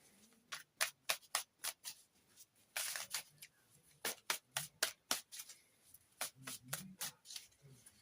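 Tarot cards are shuffled and drawn for a reading, with close, crisp riffling bursts in a rapid uneven rhythm and a longer flutter partway through.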